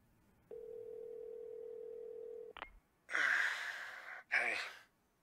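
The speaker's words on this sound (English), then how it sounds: "A phone call, okay." A phone call in The Walking Dead video game: a steady electronic tone for about two seconds, a short click, then loud breathy gasps or sighs from a character.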